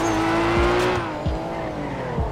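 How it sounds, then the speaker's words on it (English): A BMW approaches and skids during a street race in GTA 5, its engine whining with a rising tone while tires squeal and scrub loudly in short bursts, close by, with no talking. "Who's that behind me? Oh, that's the BMW coming."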